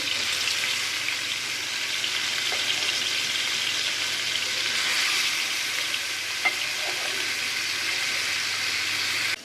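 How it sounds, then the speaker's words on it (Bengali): Steady, loud sizzling of koi fish (climbing perch), coated in salt and turmeric, frying in hot oil, a continuous crackling hiss with a few sharper pops, no voices. "তেল গরম হয়ে গিয়েছে একটা একটা করে মাছ দিয়ে দেবো"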